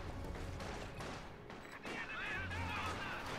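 An infantry support gun in Company of Heroes 2 shells a building, producing a dense, continuous rumble of overlapping booms and gunfire crackle that fills the whole stretch with no clear gaps.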